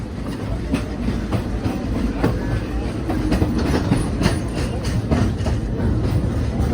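Frisco Silver Dollar Line amusement park train rolling along with steady clickety-clack of wheels on rail and rumbling carriages, moderately loud and close throughout.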